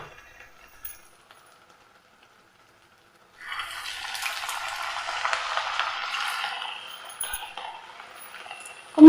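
A rava and coconut snack sizzles in hot oil, a steady crackling hiss that starts after a near-silent pause and runs to the end, followed by a sharp utensil clink.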